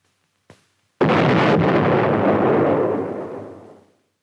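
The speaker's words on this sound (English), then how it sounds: "unit commanders may call in artillery or high-angle weapons to demolish tunnel entrances" Artillery blast demolishing a tunnel entrance in a 1969 US Army demonstration: a small sharp pop, then one massive loud explosion with a long rumbling roar that slowly fades over about three seconds.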